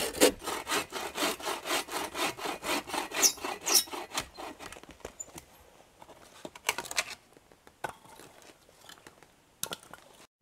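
Hand sawing through wood at a winter campsite in a fast, steady back-and-forth rhythm, then the strokes stop and a few scattered knocks and scrapes follow.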